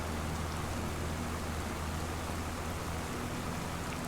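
Steady rain falls in a farming video game, an even, unbroken hiss of drops with a low rumble underneath and no other sounds.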